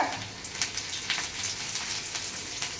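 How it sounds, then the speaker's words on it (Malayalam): Chopped ginger, garlic and dried chillies fry in hot oil for a Kerala moru curry, a close, steady sizzle with small crackling pops throughout. "ഇനി ഇച്ചിരി കൊത്തി അരിഞ്ഞ ഇഞ്ചി, വെളുത്തുള്ളി, ഉണക്കമുളക്,"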